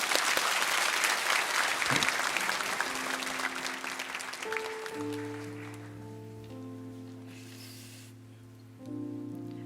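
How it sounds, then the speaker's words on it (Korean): A church congregation in Korea claps warmly, the applause thinning out over several seconds as soft music takes over with sustained tones in the background. "우리 큰 박수로 맞아주시기 바랍니다"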